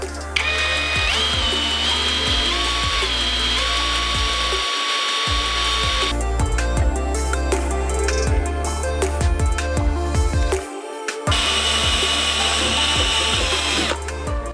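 A GRAND DA-20/13UBL Pro cordless drill-driver chuck clamps down on a 1.5 mm bit, giving close, loud ratcheting clicks and short bursts of motor whine, with brief pauses between grips.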